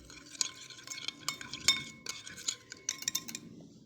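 A spoon stirs dry milk powder into a paste in a small bowl, giving soft, quick scraping and light clinking strokes that repeat steadily and faintly at close range.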